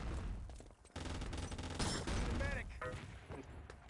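Gunfire and grenade blasts fill a busy Enemy Territory match, with dense bursts of shots and sharp bangs running throughout and a commentator's voice mixed in.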